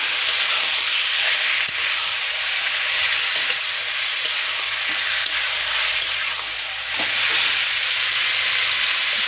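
Spicy red meat curry sizzling and frying in a wok (kadai) while being stirred, a steady close hiss with soft scraping clicks throughout, no talk.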